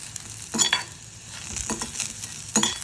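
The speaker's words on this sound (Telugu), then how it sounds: "3 వంకాయ ముక్కలు, 3 పచ్చిమిరపకాయలు, వీటిని కూడా ఫ్రై చేసుకుందాం." Brinjal pieces, green chillies, tamarind and cumin fry in a pan with a steady soft sizzle, broken by a few brief stirring scrapes and clinks of a spoon.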